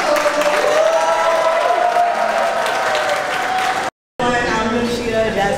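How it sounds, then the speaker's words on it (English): A wedding crowd applauds the new couple loudly and steadily, clapping and a few cheers filling the room, with a brief break before the clapping resumes. "So please, everybody, let's clap it up for this new couple."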